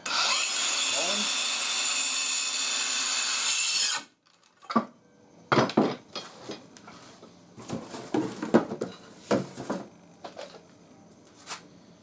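A DeWalt Atomic compact cordless circular saw rips through wood about 40 mm thick with a loud, close, high-pitched whine for several seconds. It stops abruptly, followed by scattered clunks and rubbing as the wood and saw are handled.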